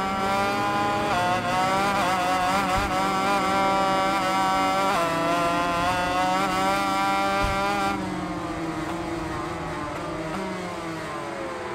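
Motorcycle engine in the MotoGP 21 video game at the Austria track, a 500cc race bike revving hard and steadily through shifts, loud and continuous with no talking.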